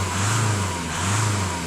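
A diesel car engine runs steadily close by, a continuous low rumble with a slight swell in revs and no talking.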